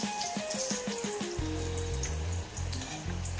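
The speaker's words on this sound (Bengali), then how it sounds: "সেই জন্য আমি বেগুন ভাজা করে দিচ্ছি" Eggplant slices frying in a pan, a continuous hissing sizzle heard close up alone, with a repeating tonal pattern running underneath.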